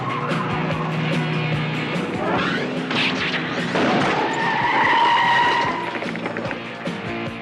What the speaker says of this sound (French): Johnny, gaffe à la voiture derrière toi.